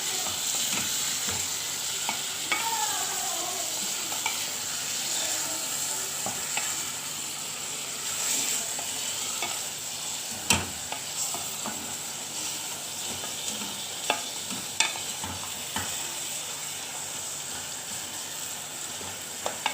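A burger patty sizzles and fries in a pan while it is stirred, with a steady hiss and occasional scraping clicks from the utensil.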